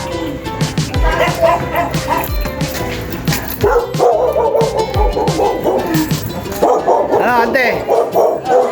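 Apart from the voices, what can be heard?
dog barking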